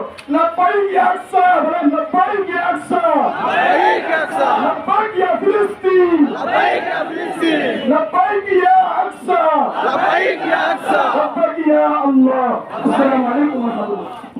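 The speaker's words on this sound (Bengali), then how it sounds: "আমি একটা স্লোগান দিয়ে আজকে এখানে শেষ করবো" Loud crowd at a rally against Israel in Gomoti, thousands of people chanting in unison, voices swelling and falling in repeated rhythmic bursts that fill the whole span.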